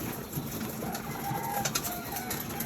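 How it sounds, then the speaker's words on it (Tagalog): Pigeons coo softly among themselves while pecking at feed from a tray in a small coop, with scattered taps of beaks and light rustling close by. "Para kitang-kita nyo yung ating mga ibon."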